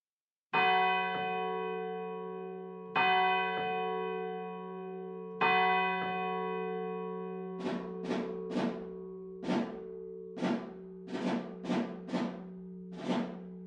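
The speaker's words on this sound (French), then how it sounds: "les cloches se sont mises à sonner à toute volée" Church bells ring at full peal: three slow, resonant strikes with long ringing decays, then a quicker, irregular run of overlapping bell strokes.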